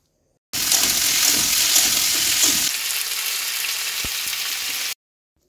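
Cauliflower and beans hiss loudly in a hot wok, a dense close sizzle that starts abruptly, is fiercest for the first couple of seconds, then settles into a steadier fry before cutting off, with no voices.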